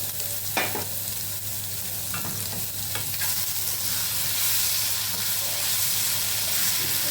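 Paneer and onions fry in a pan for a samosa filling, with a loud, continuous sizzle, close stirring scrapes and a low steady hum underneath.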